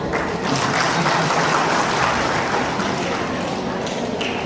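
A crowd at a public speech applauds in a dense, continuous wash of clapping that holds steady and fairly loud for several seconds without a break.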